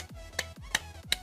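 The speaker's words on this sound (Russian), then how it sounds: "Хлопки." Three sharp, quiet hand claps come at an even pace beside an Arduino analog sound sensor, each a crisp transient with faint low clicks between.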